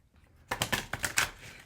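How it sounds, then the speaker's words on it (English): A quick riffle shuffle of a deck of playing cards, a short burst of close, crisp fluttering clicks lasting about a second after a near-silent start. "We'll give these a ruffle shuffle"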